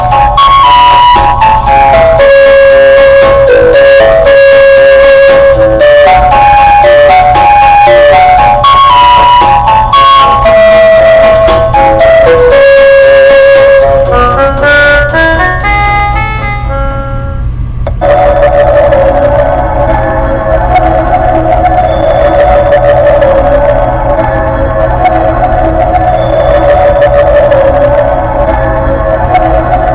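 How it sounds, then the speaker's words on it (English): A campus emergency alert system sounds loud and steady for the full stretch: a rising and falling electronic melody over a low drone, switching partway through to a different, denser warbling tone pattern, with no voices. "That one sound you just heard was actually one of Irinka's old EASs"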